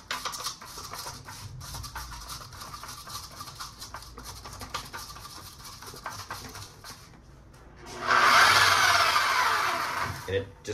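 A power sander sanding a bathtub whirs up loudly near the end, a steady grinding buzz that follows several seconds of quieter clattering handling noise.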